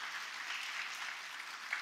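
Church congregation applauding together at a Wednesday worship service, a steady, dense wash of clapping that holds at an even level from start to finish with no talking.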